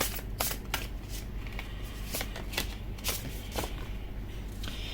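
Tarot cards are shuffled close up in a run of quick, crisp riffling bursts and soft rustles, with no talking over them.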